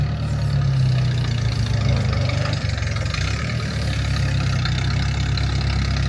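A scrapyard Ford wagon's engine idles steadily with a low, rumbling drone, close and continuous with no talk.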